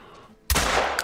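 A hunting rifle shot in the video game theHunter: Call of the Wild cracks loudly and abruptly out of a quiet background, its sharp blast trailing into a sustained roaring echo.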